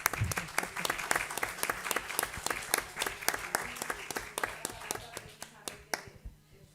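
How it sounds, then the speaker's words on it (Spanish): An indoor audience at a talk honouring a restoration team breaks into sustained applause, many hands clapping steadily and briskly before the clapping thins out and stops near the end. "el aplauso es para el equipo"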